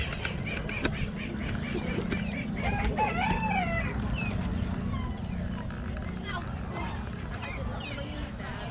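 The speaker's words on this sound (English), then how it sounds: "Chickens, this is a chicken." Chickens cluck and a rooster crows at a busy outdoor trade gathering, the birds partly masked by a loud crowd murmur and nearby talk.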